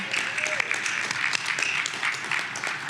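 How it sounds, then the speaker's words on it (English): Hand clapping from a person at a transportation funding meeting, a steady run of sharp claps that sounds like a small room applauding, moderately near with a murmur of voices underneath. "I'm gonna clap"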